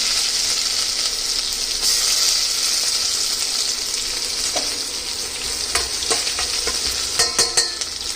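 Chopped onion sizzling in hot oil with mustard seeds and cumin in a pan, a loud steady hiss running throughout, with scraping stirs and clinks of a spoon growing more frequent toward the end.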